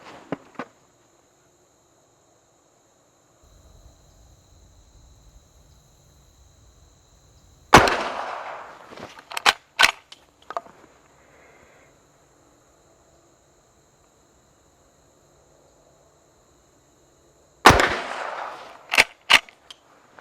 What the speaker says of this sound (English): So let's try 3 rounds of this 38 special hand load